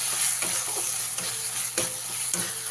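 Dried red chillies, cumin and ginger-garlic paste are stirred through hot oil for a Bengali katla fish curry, giving a close, steady sizzle with scraping spoon strokes every half second or so and no talk.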